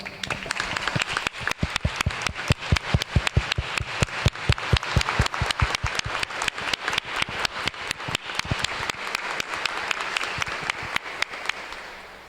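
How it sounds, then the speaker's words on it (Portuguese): Loud, sustained applause from a large church congregation at a Confirmation rite, many hands clapping in a dense patter that fades slightly toward the end. "Com grande alegria, vamos acolhê-los com as nossas palmas."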